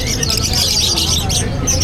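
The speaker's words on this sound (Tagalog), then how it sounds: "Ayan, napakaraming ibon." Many caged birds at the Grotto pet market chirp and squawk together in a dense, continuous chorus, loud and close, with some people talking in the background.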